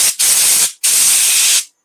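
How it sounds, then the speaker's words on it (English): Compressed air blasts excess grit out of an elm wood platter in two sharp, loud hissing bursts close by, separated by a short pause. "I'm just going to blow out any of the excess grit that's been in there."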